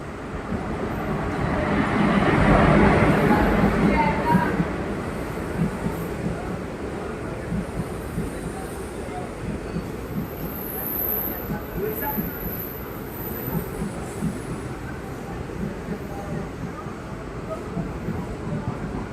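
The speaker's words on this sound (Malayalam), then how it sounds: "കണ്ണൂർ റെയിൽവേ സ്റ്റേഷൻ്റെ ഈ മൂന്നാമത്തെ പ്ലാറ്റ്ഫോമിലേക്ക് ഇതായി എത്തിക്കൊണ്ടിരിക്കുന്ന ഈ ട്രെയിൻ" The Parasuram Express pulls into the third platform at Kannur railway station, a low rumble that swells for the first few seconds, then settles into steady rolling clatter while someone talks over it.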